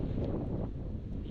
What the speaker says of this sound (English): despite this super strong wind that has appeared out of nowhere now.